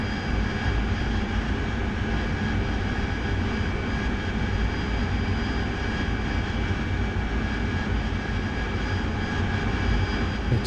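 Jet aircraft engine in the flight combat game DCS World during a close air support mission, a steady, even drone with a low rumble and high whine, continuous and unbroken with no talk.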